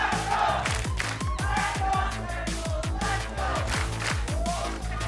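A Valorant esports audience at a Sentinels versus NRG VCT Americas match cheers loudly and continuously, with pounding rhythmic beats underneath and occasional voices through the roar.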